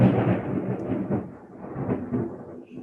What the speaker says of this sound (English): Huge, huge thunder.